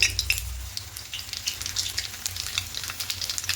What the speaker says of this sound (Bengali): এখানে ফোড়নে দেবো কালো জিরে